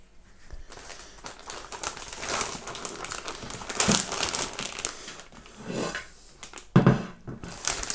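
A plastic bag is handled and crinkled while being made up for hot-smoking yellowtail amberjack fish, giving continuous close rustling and crackling with a few louder crumples near the end, and no talking.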